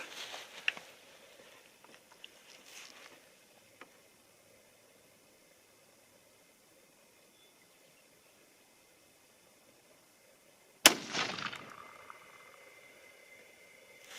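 A .243 Winchester rifle loaded with 70-grain Nosler and Sierra bullets fires outdoors: after a long near-quiet stretch, a single sharp, loud report cracks out and decays over a second or so.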